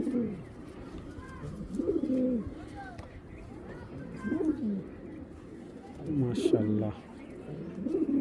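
Racing pigeons in a Bangladeshi loft coo close by in repeated soft, throaty bursts about every two seconds, while someone briefly speaks over them.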